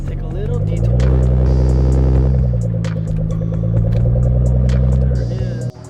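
A Nissan GT-R R35 fitted with an HKS Legamax exhaust drives along with a deep, steady, loud exhaust rumble that holds for several seconds, then drops off abruptly near the end.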